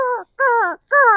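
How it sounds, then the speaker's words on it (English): Several crows caw in three loud, harsh bursts close by, each call drawn out with short silent gaps between, no voices present. "So right now, my crows are talking."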